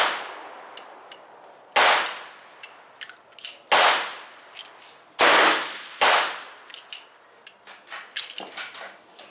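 Several sharp, loud gunshots from a .44 Special revolver at an outdoor range ring out at irregular intervals, each followed by a short decay, with fainter clanks and pops from other shooters nearby.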